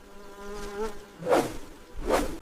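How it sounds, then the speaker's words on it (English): Flies buzz around a buffalo's head in the wild, a faint close whine that rises and falls, with two louder swells as insects pass near. "Flies swarm around its eyes and nostrils, making every moment even more uncomfortable."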